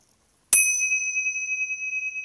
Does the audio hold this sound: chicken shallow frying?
no